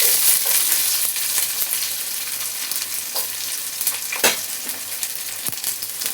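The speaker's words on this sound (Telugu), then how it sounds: "అవి బాగా ఫ్రై అవ్వాలి. ఇప్పుడు ఆనియన్స్ యాడ్ చేసుకుందాం." Onions frying in a pan with cardamom for mint rice make a loud, steady sizzle throughout, with occasional stirring scrapes and soft knocks and no voices.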